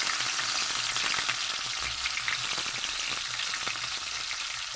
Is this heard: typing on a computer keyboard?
no